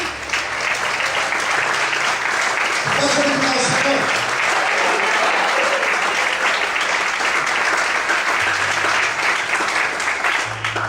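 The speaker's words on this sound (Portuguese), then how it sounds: "aplaude o Senhor bem forte" A church congregation applauds loudly and steadily throughout, with a preacher's voice speaking briefly over the clapping in the middle.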